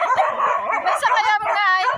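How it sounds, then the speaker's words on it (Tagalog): Dogs in a rural Pangasinan province setting bark and yip in quick, close, loud bursts, with whimpering tones in between. "Binibidyo ko yung mga aso."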